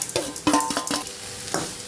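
Beetroot chutney ingredients being sautéed and stirred in a pan, with several scraping stirs in quick bursts over a soft, steady sizzle, up close.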